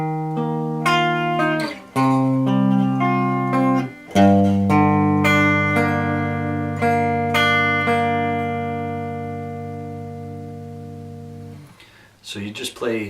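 Guitar plays a part of a song slowly, ringing chords and picked notes that sustain and decay, close and fairly loud, with a long fading chord near the end and a brief noise after.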